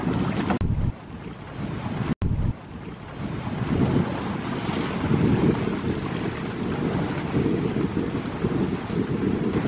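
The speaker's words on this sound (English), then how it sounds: "the water is so rough" Choppy water slapping and churning close by on a canoe trip in Dalarna, Sweden, with gusty wind buffeting the microphone; a brief dropout early, then a sustained rough roar.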